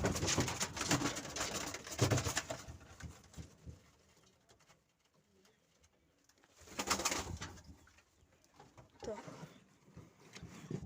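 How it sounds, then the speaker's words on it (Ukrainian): A young homing pigeon coos in soft, repeated throaty phrases close by in a pigeon loft, with rustling and faint bird noises between bouts. "Чуєте, він воркує."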